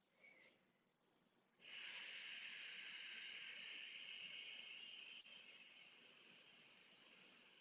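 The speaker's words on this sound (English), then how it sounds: "It's a very soft hissing sound, like steam releasing from a radiator" A soft, steady hissing breath starts after a brief quiet moment and holds evenly for several seconds, close and airy like escaping steam.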